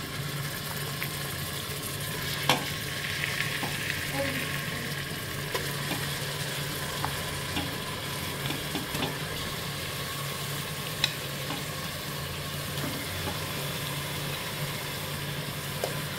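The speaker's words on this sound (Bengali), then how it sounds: "এবার আমি মাংস যে ম্যারিনেশন করে রেখেছিলাম সেটা আমি অ্যাড করে দিচ্ছি" Marinated mutton with onion, ginger, garlic and yogurt added to a frying pan for mutton kosha, giving a steady broad sizzle with a few faint clinks and scrapes, no voices.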